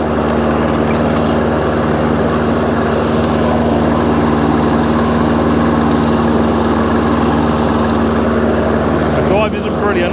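An Active 5800 lawnmower engine runs steadily and drives, a continuous loud motor drone with a constant low hum and no pauses throughout.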